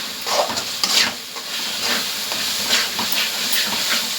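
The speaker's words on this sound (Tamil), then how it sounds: "இந்த தக்காளியிலேயே இந்த மிளகாய் தூள் வந்து நல்லா வதக்கி வச்சுக்கலாம்" A tomato and chili powder masala sautés in a pan on a gas stove for a fish curry, giving a close, steady sizzle broken by scraping stirs at an even pace, with no talking.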